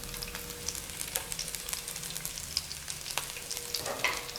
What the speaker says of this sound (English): You can hear it sizzle a little bit.